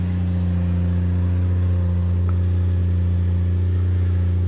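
The engine of a 1940 Mercedes 320 barn find idles loudly and steadily, a deep rumbling drone from a nearly wide-open exhaust, close by.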